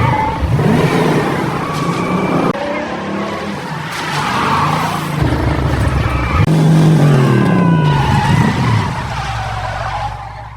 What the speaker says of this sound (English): He drives like a man possessed, drifting, spinning, nearly kissing the sides of parked trucks before stopping.